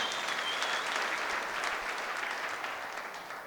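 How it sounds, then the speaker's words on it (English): A large crowd at a political rally applauds steadily, dense clapping filling the space and tapering slightly toward the end, with no voices over it. "we must give them a round of applause."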